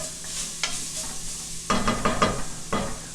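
Four cloves of garlic hit a hot pan and sizzle, a loud, close hiss that swells in sharp bursts as the garlic is stirred and tossed, with brief scraping accents and no talking.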